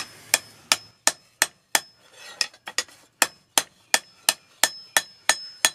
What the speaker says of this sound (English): So right now I'm just kind of taking out all the really deep hammer marks from my big hammer.